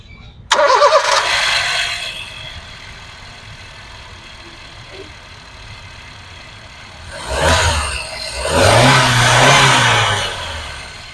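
A Honda Brio S petrol engine cranks and catches with a sudden burst, then settles into a smooth, steady idle before two short revs rise near the end, close up with no speech.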